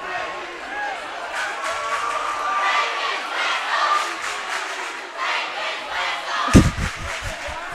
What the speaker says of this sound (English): the Leake crowd is chanting, take his whistle, talking about the ref